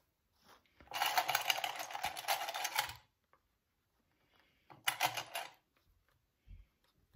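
Sewing machine basting a zipper into fabric while making a sling bag, two bursts of steady mechanical stitching, the first about two seconds long and the second shorter, close and moderately loud, with quiet handling noises between.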